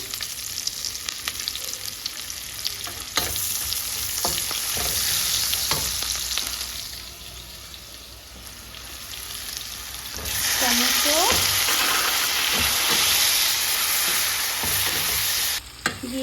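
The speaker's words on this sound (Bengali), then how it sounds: "এই যে মশলাগুলো ফ্রাই করতে হয় ওগুলোকে ফ্রাই করে নেব একটু জিরে দিয়ে দিলাম" Cumin, dry red chili and onion fry in hot oil, giving a steady loud sizzle broken by scraping stirs and spoon clinks, the hiss swelling sharply as the onion goes in near the end.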